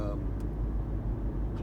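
A car drives on a road through Blue Knob State Park in Pennsylvania, its low engine and road rumble steady and close beneath a talking voice.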